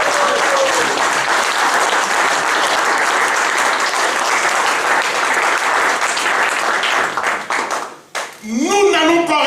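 A church congregation at a Christian convention bursts into loud, sustained applause and cheering that fills the hall for about eight seconds, then fades as a singer's or speaker's voice rises at the end.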